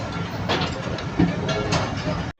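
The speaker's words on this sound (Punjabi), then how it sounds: "ਇਹ ਆ ਸ਼ਾਦਰਾ ਸਟੇਸ਼ਨ ਤੇ ਇੱਕ ਟ੍ਰੇਨ ਰੁਕੀ ਆ" A train stopped at Shahdara station rumbles and hisses at close range, steady mechanical noise with a few louder clanks, cutting off abruptly at the end.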